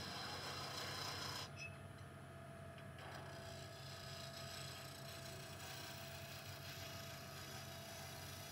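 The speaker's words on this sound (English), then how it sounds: "Now I'm gonna do a little shear scraping on it." Steady rasping scrape of a tool shear scraping a wooden Easter egg spinning on a lathe, continuous and close under a low motor hum, with no talking.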